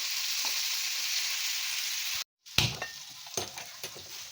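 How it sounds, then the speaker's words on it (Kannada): Chopped vegetables dry-frying in a pan with no oil give a steady close hiss, broken by a brief silence, then sharper stirring scrapes and crackles over the renewed sizzle. "ಸ್ವಲ್ಪ ಹಸಿ ವಾಸನೆ ಹೋಗೋವರೆಗೂ ಅದನ್ನು ಸ್ವಲ್ಪ ಫ್ರೈ ಮಾಡ್ಕೊಳ್ಳೋಣ ಆಯಿಲ್ ಏನು ಹಾಕೋದಿಲ್ಲ"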